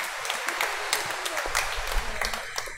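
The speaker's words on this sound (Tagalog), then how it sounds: "Palakpakan natin ang Panginoon." A church congregation claps together in a steady, dense wash of applause during a Laetare Sunday Mass, filling the room evenly throughout.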